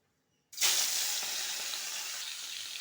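Tangra fish dropped into hot oil, a sudden loud sizzle bursting in after a moment of silence and then holding as a steady, bright frying hiss, close by.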